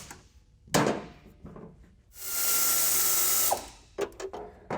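Ratchet work on a late-model Chevy Astro van while mounting sway bars with urethane bushings, heard as short clicking bursts and a sustained whirring pull mid-clip, with clanks and thuds around it.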